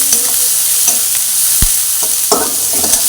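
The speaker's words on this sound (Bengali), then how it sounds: "পেঁয়াজটা ততক্ষণ ভাজবো যতক্ষণ হালকা সোনালি গোল্ডেন কালার না হবে" Chopped onion frying in hot oil with bay leaves and cumin for a Bengali rui fish curry, giving a steady close sizzle broken by occasional scraping stirs, with no talking.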